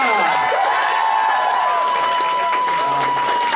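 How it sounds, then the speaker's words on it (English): A crowd at a Sailor Moon Day fan event in Vancouver applauds and cheers loudly and steadily for a costumed participant, a dense wash of clapping and shouts filling the whole stretch. "Guys, round of applause for Monica."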